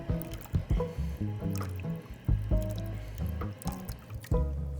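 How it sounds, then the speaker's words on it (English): Someone drinks from a water fountain up close, with gulping, squishing and splashing water sounds in an uneven rhythm, fairly loud and with no talking. "Who wants to see a guy do nasty things to a water fountain again?"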